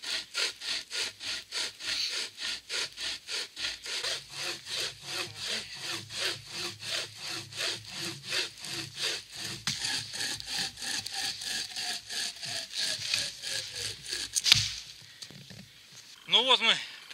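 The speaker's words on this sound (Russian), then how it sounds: "Ну вот мы попилили нашей новой пилой" A tourist pocket saw cutting through wood outdoors, loud and close with dozens of rhythmic back-and-forth strokes, ending in a crack as the piece gives way; a voice speaks over the sawing near the end.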